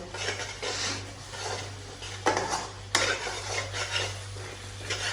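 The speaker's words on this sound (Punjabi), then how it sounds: "ਗਰਮ ਮਸਾਲਿਆਂ ਨੂੰ ਮਿਕਸ ਕਰਕੇ ਇੱਕ ਵਾਰੀ ਇਹਨੂੰ ਹਲਾ ਦਾਂਗੇ ਥੱਲੇ ਨਾ ਲੱਗੇ ਮਸਾਲਾ" Mutton masala with garam masala being stirred in a cooking pot: steady scraping and clinking of a spoon against metal, with two sharper knocks partway through and a low, constant hum underneath.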